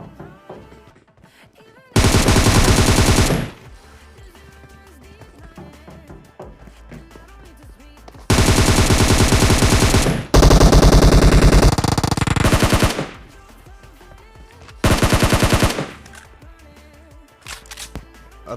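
Automatic gunfire in PUBG Mobile rips out in loud, dense bursts during a fight against a rushing duo, with four long sustained volleys separated by quieter gaps of game ambience.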